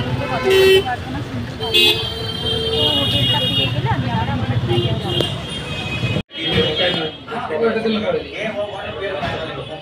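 Horns toot repeatedly over the rumble of cars and buses stuck in a heavy traffic jam, close and loud, with people talking throughout and a brief dropout partway.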